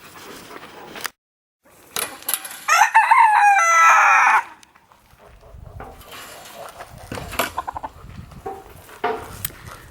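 Chickens in a farmyard henhouse, kept alongside ducks, quail and Orpingtons: a rooster gives one loud, close crow in the middle, with scattered clucks and faint rustling before and after.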